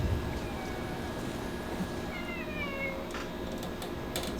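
A pet cat meows a few times near a desk, faint and brief above a steady background hum of room noise.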